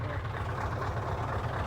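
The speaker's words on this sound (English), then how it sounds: "I just want to hear that exhaust roar." A Scania semi truck hauling an American trailer gives a steady, loud, low exhaust roar with a continuous rumbling drone and no breaks, heard close up with no talking.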